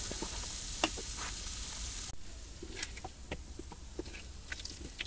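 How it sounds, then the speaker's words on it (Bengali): Large potato pieces fry in oil for a katla fish curry with a soft, continuous sizzle, heard fairly quietly. Occasional stirring clicks sound over it, there is an abrupt drop partway through, and no one talks. "তা আলুগুলো লাল লাল করে ভাজতে নিছি"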